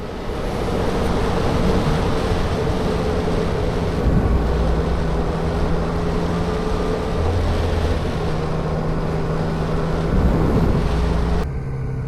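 Yamaha FZ-09 (MT-09) 900 motorcycle being ridden on pothole-covered roads, a steady engine drone with wind rush, loud and close, the pitch shifting slightly as it accelerates.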